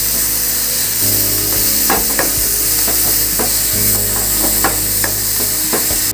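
A spoon stirs ghee into a thickened mango ladoo mixture in a pan, making steady scraping and soft sizzling with irregular clicks of the utensil against the pan, close and alone, with a low hum underneath.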